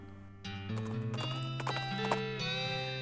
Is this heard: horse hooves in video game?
yes